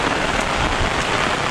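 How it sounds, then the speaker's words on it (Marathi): Heavy monsoon rain pouring down in a Konkan village beside a house with coconut trees, a dense, loud, unbroken roar of drops on surfaces with no voices. "पाणी जोरात पाऊस जोरात पडतोय."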